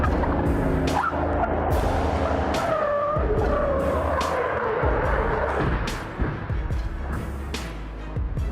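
A car skids on a slippery road as its back wheels slide off, a loud continuous tyre-and-engine roar with a wavering squeal running through the whole stretch, fading slightly near the end.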